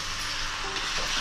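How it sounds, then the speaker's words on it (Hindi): Pumpkin sabzi is stirred in a hot pan, giving a steady soft sizzle with faint scraping as the soft pumpkin is moved about, brief and close, no talk. "कद्दू को एक बार खोल के फिर से चला लेते हैं।"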